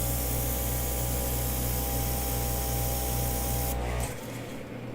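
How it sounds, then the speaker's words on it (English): An airbrush sprays paint while floral designs are worked, giving a steady, loud hiss with a low compressor-like hum underneath for about four seconds before cutting off abruptly, leaving only a faint quieter tail. "And then we're going to open it up with the airbrush."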